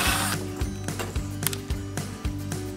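A drill whirs in short bursts with mechanical ticking and rattling as it bores a pilot hole through a kayak hull, close up and moderately loud, no voices.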